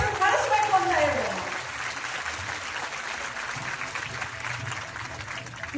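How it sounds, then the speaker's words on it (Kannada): An audience claps at a public talk, starting over a raised voice that fades out and leaving steady, moderate clapping from the crowd. "ನೀವು ಚಪ್ಪಾಳೆ ಕಟ್ತಿದ್ದೀರ"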